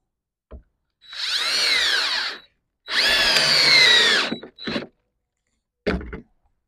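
A power drill drives screws into wood while a deer feeder is being built, with two long whirring runs of about a second and a half each followed by three short bursts, close and loud against silence.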